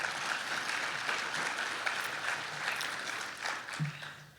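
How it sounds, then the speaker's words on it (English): A luncheon audience applauds itself at a ceremony: a steady, dense wash of many hands clapping fills the room throughout, with a few voices faintly mixed in. "give yourselves a round of applause"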